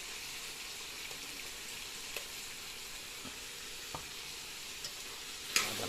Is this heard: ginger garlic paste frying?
yes